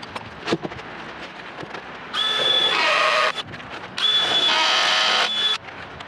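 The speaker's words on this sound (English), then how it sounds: "The first step is to drill my pilot holes because the drill bit is not long enough to go through the insulation and the concrete at the same time." Power drill boring pilot holes through exterior foundation insulation toward concrete, two sustained whining bursts of about a second and a half each, close and loud, separated by a short pause with a few faint knocks before.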